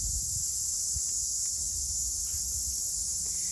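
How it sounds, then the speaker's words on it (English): Katydids and grasshoppers in a hot, humid August garden make a continuous high-pitched insect drone, steady and moderately loud throughout, with faint low rustling underneath. "A lot of grasshoppers love to live in here along with the katydids."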